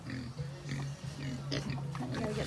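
Pigs grunt and oink on a farmstead in a steady run of low, close calls, with a person talking quietly underneath.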